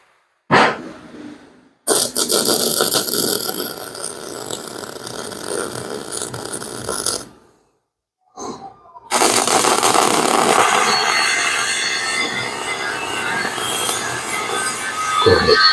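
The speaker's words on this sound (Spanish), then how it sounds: "voy a aplicar unos puntos para asegurar la platina al eje. Soldadura MIG aplicando" MIG welding tack points that secure a reinforcing plate to the rear axle housing of a Hino 300 truck: two long, loud, crackling arc bursts close by, separated by silence and a brief sputter between them.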